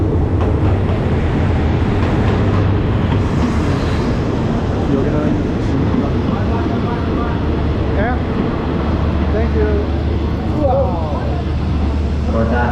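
A train pulls into a station in Ayutthaya, Thailand, with a loud, steady rumble and roar filling the whole scene and faint metallic squeals and clatter, while people talk nearby.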